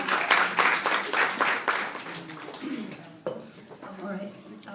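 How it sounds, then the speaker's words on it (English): Audience applause at a talk, a burst of clapping from a crowd that gradually thins and fades over several seconds, with no voices over it. "All right, another round of applause for her,"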